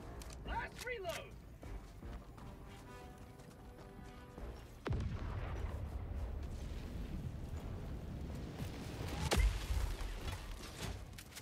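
Orbital strike explosions in Helldivers 2 boom as a couple of sharp, heavy blasts over ongoing game noise, with people talking at a low level throughout.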